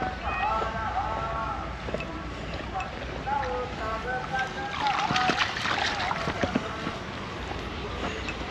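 A Doberman splashing through water in a flooded farm field at dusk, uneven sloshing and splattering bursts close by that grow busier midway, with faint voices in the background.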